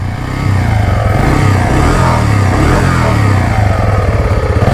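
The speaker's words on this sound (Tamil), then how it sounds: "போயிட்டு ஒரு 15-20 அடி அடிச்சிருப்போம், ஸ்டார்ட் ஆகிட்டுங்க." A motocross bike engine fires up after kick-starting and keeps running loud and close, a rough throbbing idle with revving surges throughout.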